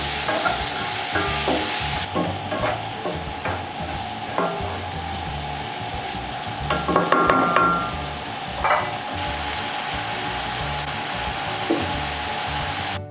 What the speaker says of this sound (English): Then saute the green onion as well. And then put the tomato.